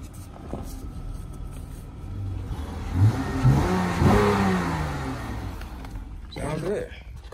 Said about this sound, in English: I'll hit the gas for y'all a little bit. Let's see how it sounds.